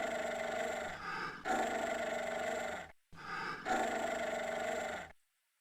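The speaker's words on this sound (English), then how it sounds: "Was that originally a dog sound effect?" Dog growling sound effect from the visual novel Ever17: two long, loud, rumbling growls in a row, separated by a brief break, with no talk over them.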